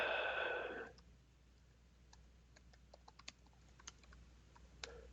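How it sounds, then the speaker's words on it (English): Sparse, irregular key clicks from typing on a computer keyboard, faint and spread out after a brief louder noise at the very start, with a quiet room hum underneath. "And now you type your text."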